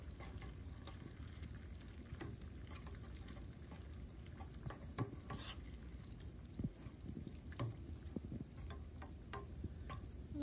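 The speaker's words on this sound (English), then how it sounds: "you're going to want to stir the eggs up a little bit" Eggs stirred in a pan while ramen cooks, a steady soft scraping and gentle sizzle running throughout with small clicks and taps of the utensil, close and low in level.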